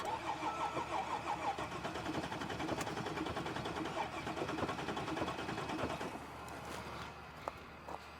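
A Mercedes GL350 engine cranking without catching, a rhythmic starter-motor churn that runs for about six seconds and then cuts off, followed by quiet with a few small clicks.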